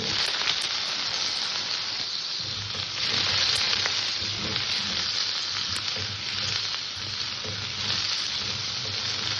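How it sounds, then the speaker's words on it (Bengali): Potatoes fry in a little oil in a hot kadai, a loud, continuous crackling sizzle with a slight swell midway, heard up close with no voices. "আমি আগে আলুটাকে একটু ভেজে নেবো"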